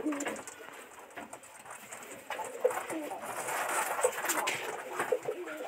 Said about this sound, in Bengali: কবুতরের ডাক আমার অনেক ভালো লাগে।